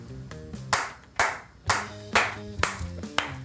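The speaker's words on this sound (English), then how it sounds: "clapping their hands like a maniac" A person claps their hands wildly and loudly in an upstairs office, about eight sharp, uneven claps in quick bursts over a few seconds, close by with no talk.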